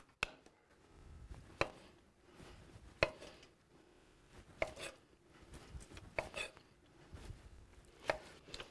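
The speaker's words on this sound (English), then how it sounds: "I'm gonna slice the tongue" Knife slicing through cooked beef tongue on a cutting board, a series of sharp, separate taps and chops at irregular intervals, close and fairly quiet, with soft handling sounds in between.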